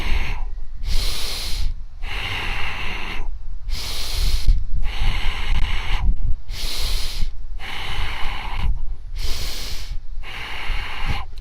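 Deep, loud breaths repeat in a steady rhythm during a seated desk workout, six long hissing inhales spaced by short pauses, close and alone with no talk.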